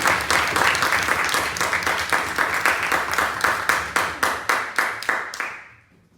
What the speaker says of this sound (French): on peut applaudir Harrison.